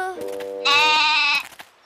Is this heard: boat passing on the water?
no